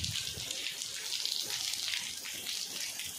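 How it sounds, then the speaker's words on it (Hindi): Heavy rain pours down in a constant, rushing wash of water, steady and fairly close, with no voices. "बहुत पानी गिर रहा है, बहुत तेज"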